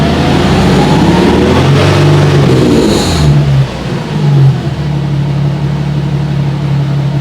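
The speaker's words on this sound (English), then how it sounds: "I'm just gonna rev it a little bit and see what happens." A Nissan 370Z engine idles loudly up close, then is revved in a couple of quick throttle blips that swell and fall back to a steady idle, following an idle fix.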